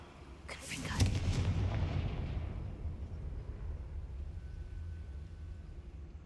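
A Confringo fire spell blasts in the Hogwarts Legacy video game: a sharp, loud explosive burst near the start that rumbles and decays into a low lingering roar over several seconds.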